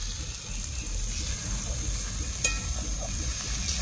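Ground chilli and coriander powder stirred in a hot pan for a village-style duck curry, a soft sizzle with steady stirring scrapes, close and even, with one sharper clink partway through.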